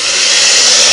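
A hair dryer on a warm, low-air setting blows a steady, loud, close-up rush of air onto the hand wheel of a Singer 301A sewing machine, with no other sounds.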